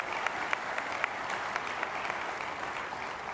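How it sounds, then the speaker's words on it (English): An audience at a professional accountants' conference applauds steadily and loudly throughout, with sharper individual claps standing out from the continuous wash. "Let's give him a big round of applause"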